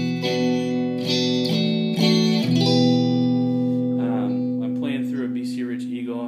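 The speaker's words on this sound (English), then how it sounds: "And you can hear there's reverb on it." Clean electric guitar played through an Orange Rockerverb 50 Mk II amp with reverb, sustained chords and single notes ringing out with a lingering tail, close and steady, with no voice over it.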